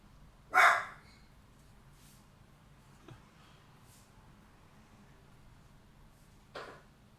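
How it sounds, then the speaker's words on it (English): A dog barks once, close and sharp, early on, then a quieter second bark near the end, with a low steady hum in between. "You heard a dog."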